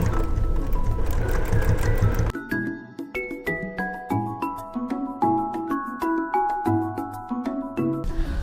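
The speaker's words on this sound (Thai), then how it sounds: "เย็บนี้นะคะแล้วก็มีย้ำหัวย้ำท้ายด้วยนะกันผ้าหลุดนะคะ" A sewing machine stitches fabric with backstitching at the start and end of the seam, a steady run of quick needle clatter with faint tinkling, heard close up after a brief noisy lead-in.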